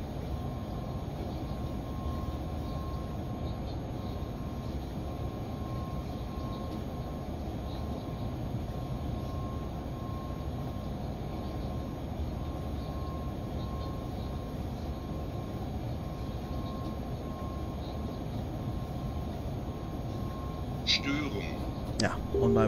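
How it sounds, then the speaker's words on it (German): An electric train's steady, heavy rolling rumble and drone in Train Simulator, a Siemens E64 U2 locomotive passing a freight train, continuing unbroken and fairly loud throughout with a brief clatter near the end. "Und da kommt eine Siemens E64 U2"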